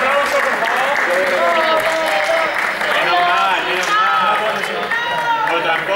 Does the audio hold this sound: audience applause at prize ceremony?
yes